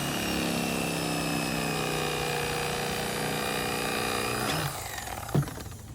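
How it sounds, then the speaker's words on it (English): An electric knife fillets a flounder or sheepshead, its close, steady motor whine holding for several seconds before cutting off, followed by a short clunk. "So we use this electric knife here."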